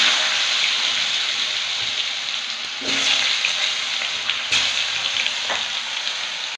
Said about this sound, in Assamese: আলুখিনি ভাজি ল'ম